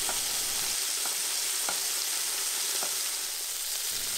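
Soft shell crabs frying belly down in hot oil: a loud, dense, continuous sizzle close by, with a few faint ticks and pops scattered through it and no talking.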